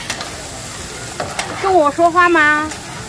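Street-stall fried rice with noodles being stir-fried, close sizzling and scraping in short bursts with a brief tonal squeal, a voice speaking faintly underneath.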